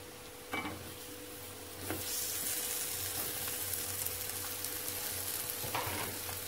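Potatoes frying gently in a pan over low heat, a steady soft sizzle running throughout, with a few faint clinks and stirring scrapes now and then.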